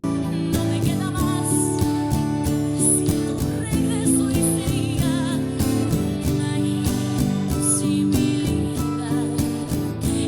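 Strummed acoustic guitar chords of a song play steadily in a rhythmic pattern, with percussive strokes and changing harmonies throughout, close and moderately loud with no talking.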